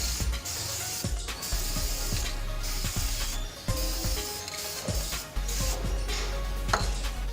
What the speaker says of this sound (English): Spray paint the edges and also the underside of the spoon